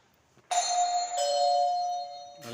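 A doorbell rings in a home, a loud close two-tone chime that sustains and fades, with a second press starting at the end.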